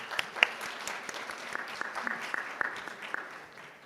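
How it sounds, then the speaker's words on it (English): A forum audience claps steadily for a few seconds, a close, dense patter of hands that slowly fades. "Please give him a warm round of applause."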